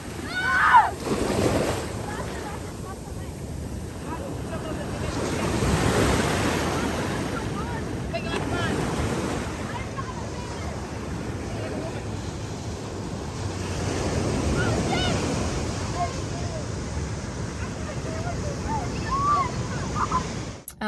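Ocean waves wash onto a beach at night, rolling surges rising and falling over a steady windy rush, with voices faintly mixed in.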